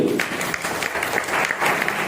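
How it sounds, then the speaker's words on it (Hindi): Loud applause from a seminar audience, many hands clapping in a dense, even burst that holds steady for a couple of seconds without speech. "चलिए जब ऐसे एक बार जोरदार तालियां सभी के लिए।"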